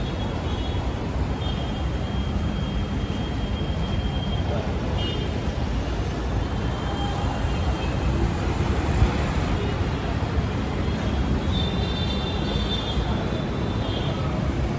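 A steady rumbling roar of a metro train in Ahmedabad moving along rails, with faint high squeals now and then, continuous throughout.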